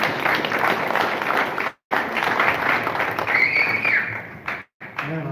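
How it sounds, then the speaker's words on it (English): An audience at a boxing press conference applauds for boxer Anthony Sims Jr. with steady, dense clapping. It drops out twice in short silent gaps, and a faint whistle-like tone rises briefly near the end. "Big round of applause, please, for the magician, Anthony Sims Jr."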